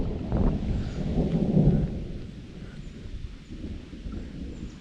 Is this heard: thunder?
yes